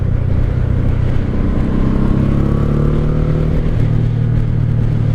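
A 1984 Honda Shadow VT750C cruiser's V-twin engine runs loud and steady up close, with a continuous low rumble and a rising pitch partway through as it revs.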